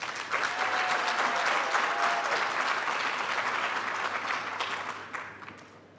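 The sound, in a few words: graduation ceremony audience applause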